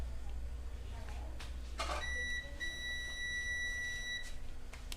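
Multimeter giving a continuity beep while probing MOSFETs on a Lenovo IdeaPad 330 laptop board, a single steady high-pitched tone lasting about two seconds, faint and close, with quiet background noise.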